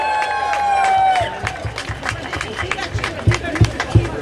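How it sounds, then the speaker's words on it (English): Crowd at an outdoor immigrant rally in a Boston park applauding, a dense wash of clapping and murmured voices that swells after a brief tone, with a few louder claps near the end. "Give him a round of applause"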